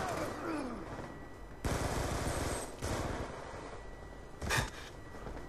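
Black Ops 2 video game gunfire comes in bursts of rapid automatic shots, loud and close, separated by short lulls, with one last sharp burst near the end over a low game backdrop.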